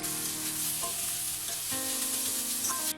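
Chicken pieces sautéing in a pan for restaurant-style chicken fried rice, a steady close sizzle and hiss with scraping stirs throughout, no talking.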